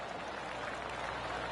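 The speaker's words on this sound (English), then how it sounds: "Oh, golf clap." Polite golf clap from a gallery in PGA Tour 2K23 at Detroit Golf Club, a faint, steady patter of scattered applause with no talk over it.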